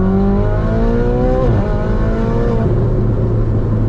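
A Ferrari 488 Spider convertible engine revs loud and close on an empty desert mountain road near Las Vegas, pitch climbing through gear changes in repeated rising sweeps, with no talk.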